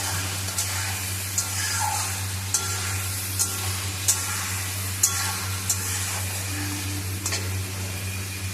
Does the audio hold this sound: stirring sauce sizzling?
yes